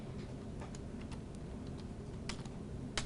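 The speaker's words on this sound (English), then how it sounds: "Type your equation into the box that appears" Keys on a computer keyboard are tapped while typing an equation. The clicks are sparse and light, quiet and close in a still room, and no one speaks.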